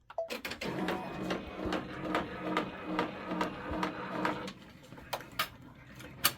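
A Brother embroidery machine stitches at 1000 stitches per minute, producing a steady, quiet mechanical whir with regular ticks and clicks that eases near the end; no one speaks.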